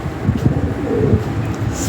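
Lahori Sirazi pigeons, a big-size 2020-bloodline pair, coo in low, repeated throaty pulses close by, with no talk over them.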